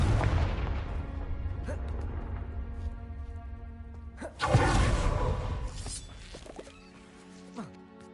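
A Confringo fire spell cast in Hogwarts Legacy lands with a sudden booming blast around the midpoint, followed by a whooshing, crackling tail over steady game ambience, no speech.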